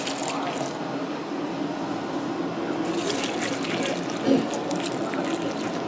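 Milk poured into a bowl of Cocoa Pebbles cereal, a steady close liquid pour with light splashing lasting several seconds.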